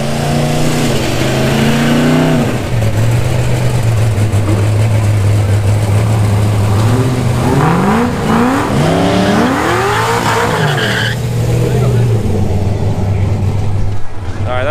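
Tuned Cadillac CTS-V at a drag strip test-and-tune session, loud engine revving with rising and falling sweeps and a hard acceleration burst, heard nearby over continuous background talk and crowd noise.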